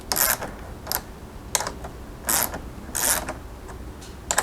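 A ratchet works on a tail light fastener while racetrack tail lights are fitted to a 2016 Dodge Dart SE. It gives close, crisp bursts of clicking at a fairly regular rhythm, with brief pauses between strokes and no talking.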